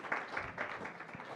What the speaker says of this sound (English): Round of applause for our chair and panelists, please.